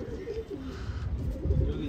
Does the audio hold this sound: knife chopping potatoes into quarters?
no